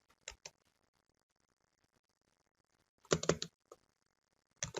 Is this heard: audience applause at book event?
no